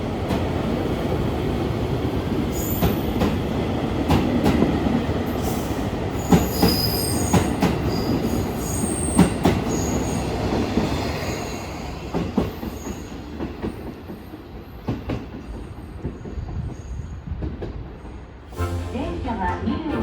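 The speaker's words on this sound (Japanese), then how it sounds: "4番乗り場から列車が発車します。" A two-car train departing from platform 4 at a Japanese station, a steady rumble with rhythmic wheel clatter and high squeals, close and continuous, with people talking faintly underneath.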